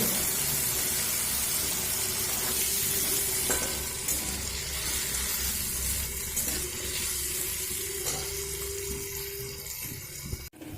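Bitter gourd fries in oil over a low flame, giving a steady, dense sizzle close by that holds for the whole stretch, with a few faint clinks near the end.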